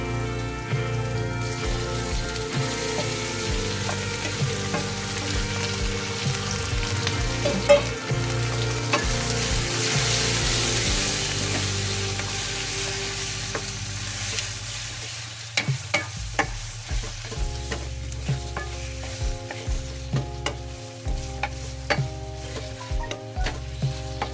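Chicken sizzles loudly in a hot pan, a continuous crackling fry broken by intermittent scraping and clattering strokes as it is stirred, with no talking.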